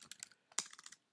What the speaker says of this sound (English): I'll just type this out here for you